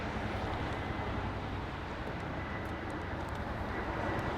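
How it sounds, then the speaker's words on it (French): A helicopter's steady, broad engine roar hangs overhead from a distance, unbroken and fairly faint throughout. "Ah c'est un hélicoptère."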